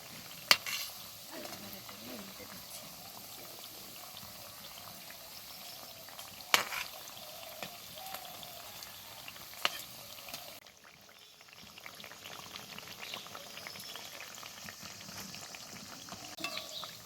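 A low, steady bubbling sizzle of flour-and-sugar sweets deep frying in oil over medium heat continues throughout, faint and even, with an occasional sharp click or tap of a utensil.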